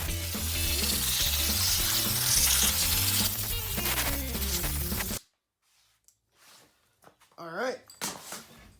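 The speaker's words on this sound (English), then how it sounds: "I'm going to take my air blower and just blow all the stuff off" An air blower gives a loud, close rush of air for about five seconds while clearing debris off a Yamaha 650-powered lawn mower, then cuts off abruptly and someone talks.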